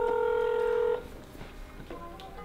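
Telephone keypad tones dial a restaurant's number, a loud sustained dual tone for about a second followed by quieter short beeps, close and without talk.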